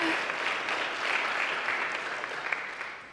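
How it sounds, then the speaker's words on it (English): Church congregation applause welcoming newcomers at a Unitarian Universalist service, a soft, even patter of many hands heard from a distance, steady and then gradually fading out. "would like to be welcomed with a little applause?"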